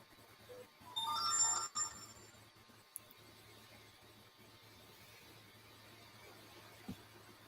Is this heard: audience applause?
no